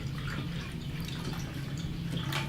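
Water being poured into a blender, a steady close splashing and trickling stream that continues throughout.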